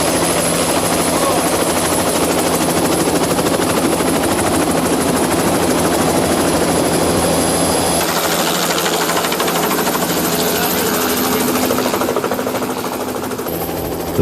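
A helicopter roars loudly and steadily up close, its rotor chop and engine whine constant, fading slightly toward the end.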